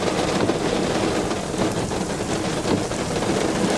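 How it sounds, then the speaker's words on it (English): Heavy rain pours down outdoors over a farm field, a dense, steady roar of drops close by that stays loud and unbroken throughout. "I just want to give y'all a shot of this rain."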